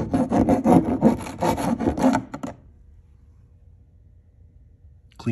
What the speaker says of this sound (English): When you're done drilling to size, you're gonna want to deburr it with a round file